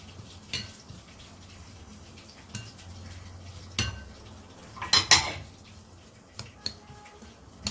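A spoon clinks against a bowl while soy sauce, sugar and toasted sesame seeds are stirred together for homemade furikake, giving a few scattered taps and scrapes, with one brief cluster of louder clatter, over quiet room tone.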